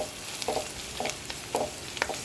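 Onions sizzle and turn golden in a pan for a sardine curry, with a soft frying hiss under repeated scraping stirs of a spoon at a steady, unhurried rhythm, close and fairly quiet.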